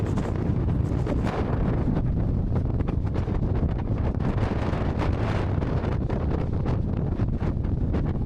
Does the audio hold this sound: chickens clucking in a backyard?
no